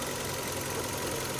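Hyundai Elantra with a 1.6 G4FC engine idling steadily nearby, a continuous mid-frequency engine drone with a faint underlying knock that fits a worn chain, lifters or bearings.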